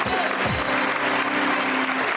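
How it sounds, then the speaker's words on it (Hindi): A studio audience applauds in a steady burst of clapping that fills the short moment, with a voice briefly heard at the start. "बहुत सारी तालियां।"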